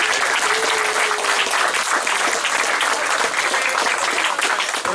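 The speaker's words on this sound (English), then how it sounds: "give yourselves a round of applause" Loud, dense applause from an event crowd at the Vengeance 2017 gaming gathering, steady and unbroken for several seconds with no talk over it.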